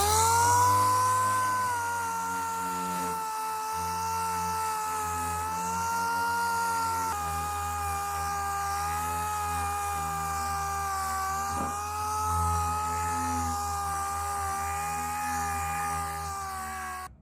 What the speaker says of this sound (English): I'm going to hit it with the 80 grit dual action sander and kind of go all around in that area just to blend everything in